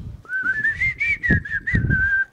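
Someone whistles a short melodic tune up close, clear and bright, with a few soft thuds or taps in the background.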